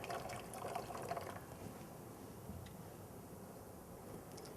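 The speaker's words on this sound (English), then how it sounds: "Wash this in running water." Running tap water washing glass syringes, a soft steady splash and trickle, quiet and fairly near, with a brief brighter spatter early on before settling into an even flow.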